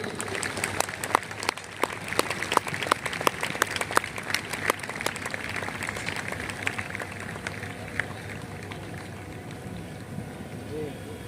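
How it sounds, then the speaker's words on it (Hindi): Crowd at a Jharkhand prayer festival stage event claps loudly and steadily, a dense burst of many hands that gradually thins toward the end, with faint voices under it. "इस समय हम लोग जोरदार ताली बजाएंगे।"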